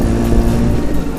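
A silver Vespa Sprint scooter's engine drones steadily and loudly while being ridden, a continuous low rumble with wind noise and no talk.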